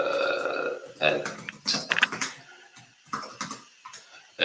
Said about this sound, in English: just typing in the password